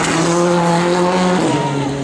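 Toyota Corolla WRC rally car sliding through a stage of the Rallye de Wallonie 2014: a loud, close, high-revving engine with tyre squeal and a shift in pitch as it passes.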